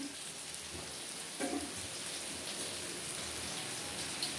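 Soybean and potato curry frying in a pan as it is stirred, giving a soft, steady, hiss-like sizzle with faint scraping, low and even throughout with no talk.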